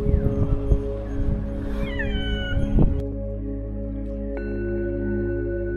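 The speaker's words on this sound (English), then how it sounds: "We met one more house cat inside, and that too a very talkative one." A talkative house cat meows repeatedly inside a Bhutanese dzong temple, its calls close and drawn out with a rising, wailing quality, followed by a steady hum.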